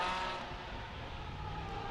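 A drift car's exhaust roars during qualifying at Formula Drift Atlanta 2019, a loud sustained engine note heard from some distance over two seconds, with no talking.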